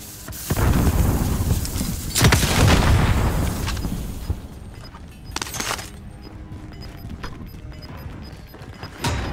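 A heavy video game grenade explosion booms close by, followed by more crashing blasts and rumbling debris, then quieter clatter and faint electronic beeps.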